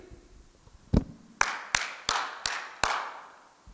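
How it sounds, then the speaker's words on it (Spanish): A congregation claps in praise to God: six sharp, loud claps in an irregular rhythm, roughly half a second apart, each ringing briefly in a reverberant room with no talk. "La primera, aplaudir."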